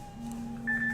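A phone rings with a steady, clear electronic tone that shifts pitch partway through the single short burst. It is moderately loud, with no voices.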